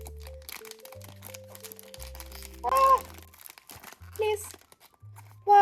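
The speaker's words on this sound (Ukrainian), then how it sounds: "Я ніколи не можу нормально відкрити ці пакетики." Crinkly plastic rustling and a few sharp tearing bursts as a packet is ripped open, close by, with someone speaking in between.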